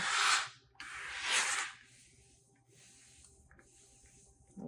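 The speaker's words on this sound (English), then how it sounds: "Actually, I'm going to try some steam." Two loud bursts of steam hiss from an iron onto printed fabric, followed by a quieter, steady hiss that fades and sputters.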